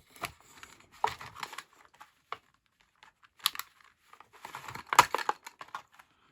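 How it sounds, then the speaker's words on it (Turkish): Hot Wheels Turbo series toy cars pulled from their cardboard and plastic packaging, with scattered crinkles, tears and plastic clicks in irregular bursts, close up and without speech. "Çıkarmaya devam ediyoruz kutularından araçları."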